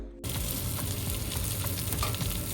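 Onions and garlic sautéing in a pan, a loud, dense sizzle that starts abruptly and holds steady throughout, close up, with no talking.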